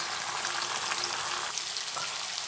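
Small onion and tomatoes frying together in a pan for an anchovy fish salan, giving a steady, close, continuous sizzle with faint crackles throughout, no talking.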